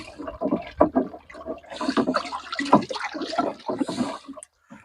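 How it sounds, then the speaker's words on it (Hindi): Jaggery is stirred into water inside a drum with a wooden stick while preparing a liquid organic NPK consortia mix, giving repeated close, fairly loud sloshing and swirling splashes in an irregular rhythm, with no talking. "को डंडे से हिला देंगे जिससे इसमें पानी में गुड़ घुल जाए पूरी तरह से।"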